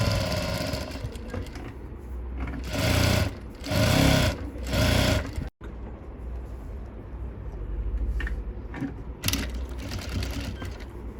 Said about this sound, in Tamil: அப்படியே டம்மி தையல் சுற்றி டம்மி தையல் போட்டுருங்க.